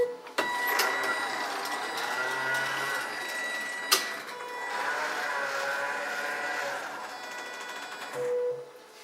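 A Kniterate digital knitting machine runs its draw thread, giving a steady mechanical whir and rattle of the carriage, with sharp clicks near the start and middle and a brief low hum at the end.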